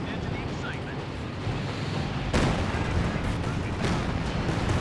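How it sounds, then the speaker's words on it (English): Calliope rocket artillery firing in Company of Heroes 2 during a 3v3 match on Fields of Winnekendonk, a dense rumbling barrage of launches and blasts that swells sharply partway through, with a caster's voice faintly underneath. "Calliope's firing."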